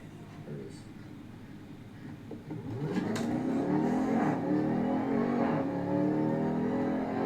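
A car's engine rises and revs as the driver hits the gas, building from a low idle into a loud, sustained acceleration roar around the halfway point, with passengers' voices in the car.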